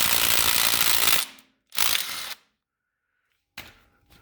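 A power tool whirrs in loud mechanical bursts as bolts are taken off the PTO plate of a Case 311B tractor, two long runs with a pause between and a shorter burst after a longer silence.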